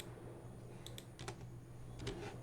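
Computer keyboard keys are pressed a handful of times, faint scattered clicks over a low background hum, no talk.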